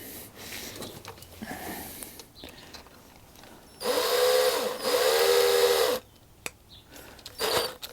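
A power drill fitted with a dryer vent cleaning brush whirs loudly in two bursts of a couple of seconds each, winding up and down, with quieter rustling and handling noises around them.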